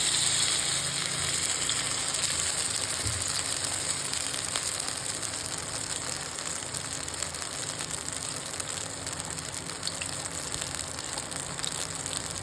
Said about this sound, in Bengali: এবারে ওটাকে আমি আবার গোল মানে দলা পাকিয়ে এই তেলে ছাড়ছি